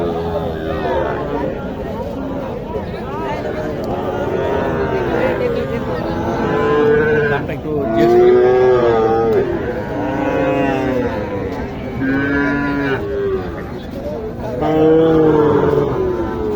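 Sahiwal cross cattle at a busy livestock market in Naogaon, Bangladesh, lowing loudly and repeatedly up close, long drawn-out moos overlapping one another amid steady crowd chatter and people talking nearby.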